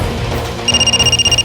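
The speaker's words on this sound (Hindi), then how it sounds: "ममता का फोन है क्या?" A telephone rings with a rapid electronic trill, starting partway through over a low background hum, close and fairly loud.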